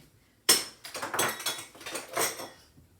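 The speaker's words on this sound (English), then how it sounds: "I'm gonna actually grab a spoon to do my tahini because it's a little thick." A metal spoon scoops thick tahini from a container, making a sharp initial clink followed by a series of close, soft scraping and knocking sounds.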